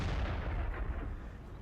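A tank cannon firing in World of Tanks on the Pearl River map, a deep booming blast with rumbling decay heard fairly loud with no talking.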